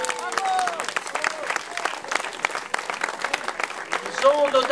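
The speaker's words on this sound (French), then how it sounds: "Je vous demande d'applaudir." Crowd applause at the Fête des Bugadières village festival in Grabels, a dense steady clapping over several seconds mixed with scattered voices and a tonal sound nearby.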